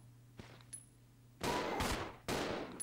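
Gunshots in the Resident Evil Zero video game: two faint clicks, then two loud, sharp shots about a second apart, each with a short reverberant tail over a low background hum.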